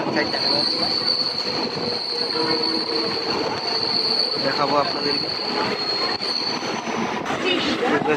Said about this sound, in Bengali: তো ব্রেকিংয়ের সাউন্ড ভালোই তো ট্রেনে ব্রেকিংয়ের সাউন্ড যথেষ্ট ভালো ট্রেন এখানে টার্ন নিচ্ছে